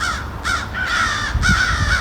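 Several crows caw loudly in repeated harsh bursts, answering a Haydel's crow call outdoors, with overlapping calls from more than one bird and a low background rumble.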